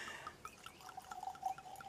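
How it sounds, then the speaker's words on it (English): A few drops of water trickle into bourbon in a small Glencairn glass, a faint run of quick, delicate drips and tinkles building to a soft pour. "I put a little bit of water in there, just a few drops"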